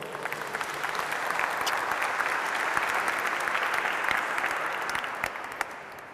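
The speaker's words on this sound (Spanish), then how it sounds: "¿Vas a darle un aplauso a la palabra de Dios, por favor?" A church congregation claps together in a dense, even wash of applause that holds steady for several seconds and then slowly fades. The sound is fairly near and fills the room, with no voices over it.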